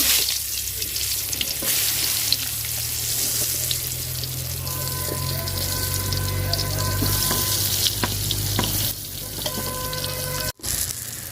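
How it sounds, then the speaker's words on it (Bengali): Eggplant pieces coated in turmeric and salt fry in hot oil, a continuous loud sizzle with some water-like trickling and faint clinks, lasting throughout before a brief dropout near the end. "তো বেগুন আমি ভাজা নিব, হলুদ আর লবণ দিয়ে মাখায় নিছি"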